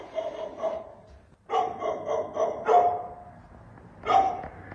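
A dog barks inside an abandoned building in a series of sharp, echoing barks, several in quick bursts with short pauses between, moderately distant and alone with no talking.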